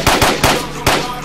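Machine gun fire in Project Reality BF2, four close, punchy shots in a short, uneven burst, each sharp crack trailing off with a quick echo.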